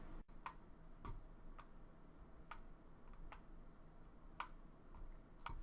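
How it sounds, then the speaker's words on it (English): A heavy, loosely secured ball rattles inside a wired ScrollPoint ball mouse, making faint, irregular light ticks and clicks close up with no other sound. "That's the sound of the ball inside, which is pretty heavy and not well secured compared to other ball mice I've used."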